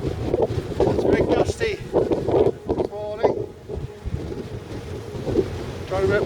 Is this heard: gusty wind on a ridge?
yes